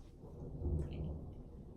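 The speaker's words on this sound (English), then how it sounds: "If you hear thunder, I'm sorry, but we are under a severe" Thunder from a severe thunderstorm rolls as a low, distant rumble, faint and swelling briefly before fading, with a soft hiss of rain in the background.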